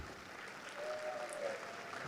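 Steady applause from a school assembly audience at an opening day event, a continuous wash of clapping hands held at an even, moderate level throughout.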